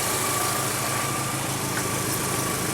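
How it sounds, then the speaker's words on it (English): A Volkswagen Jetta idles with its AC compressor engaged on a hot day, a steady dense engine drone with a faint whine and constant vibration, close and loud throughout with no talk. "the compressor is on and spinning"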